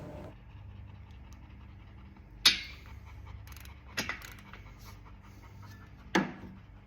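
A two-foot torque wrench set to 190 foot-pounds tightens chopper knife blade holder bolts on farm equipment, giving three sharp metallic clicks spaced a couple of seconds apart over a low mechanical background.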